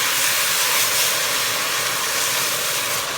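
Tomato mixture poured onto hot rice in a pan for Mexican rice, giving a loud, steady sizzling hiss that fills the whole stretch with no talk.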